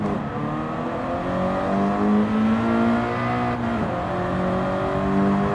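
A Toyota GR race car in Gran Turismo 7 holds a loud, steady engine drone with shifting harmonic pitch, briefly dipping as the revs drop and then climbing again, heard alone without talk.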